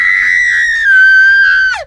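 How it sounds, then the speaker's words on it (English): Woman in captivity screaming loudly and desperately, a single long, piercing, sustained shriek that wavers slightly before breaking off abruptly at the end, close and alone. "she desperately screams as loud as she can"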